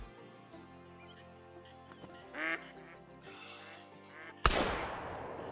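A drake mallard duck quacking in a Call of the Wild hunting game, a few short raspy calls over quiet background music, followed by a sharp loud shotgun blast with a fading echo.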